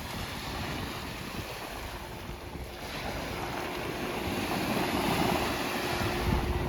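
Sea waves washing onto the Sea of Azov shore, a continuous moderate surf wash mixed with wind buffeting the microphone, swelling slightly toward the end.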